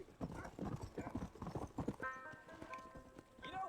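Horse hooves clip-clop steadily at a brisk pace in the western game Red Dead Redemption, close and rhythmic, giving way to a tonal musical sting near the end.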